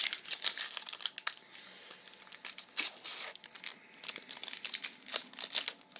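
Pokemon card packs being torn open, with sharp crinkling and crackling of the foil wrappers in quick irregular bursts, close and fairly loud.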